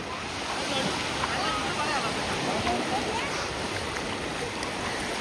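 Waves wash steadily onto a calm beach at Alibag, a continuous soft surf hiss with a light rush of wind, even and unbroken throughout, with small boats nearby.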